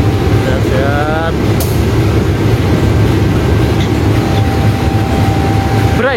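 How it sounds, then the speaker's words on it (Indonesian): Inside the Singasari 135R passenger train, a loud, constant rumble of the running carriage fills the space, with faint squeals and a brief metallic click. "Sekarang naik kereta api Singasari 135R"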